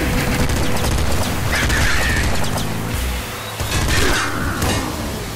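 Loud, dense burst of video-game gunfire and explosions from Nuclear Throne, with overlapping shots and crashes filling the whole stretch, among them an enemy sniper shot hitting the player.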